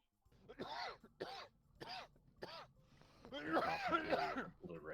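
A run of sharp, separate coughs, about four in close succession, then a longer burst of rough throaty coughing, fairly close and clear.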